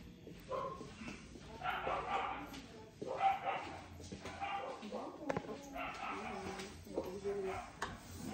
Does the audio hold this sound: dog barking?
yes